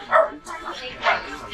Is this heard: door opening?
no